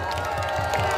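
A large crowd at a political freedom rally bursts into loud cheering and applause, a short dense wash of clapping and shouting voices.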